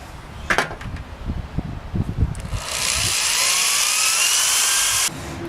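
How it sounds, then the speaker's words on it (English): A power drill bores into a metal go-kart fender, starting with a few scraping knocks and handling noises, then settling into a sustained high whine for a couple of seconds before cutting off into a lower hum. "Once it's clamped, you can drill it."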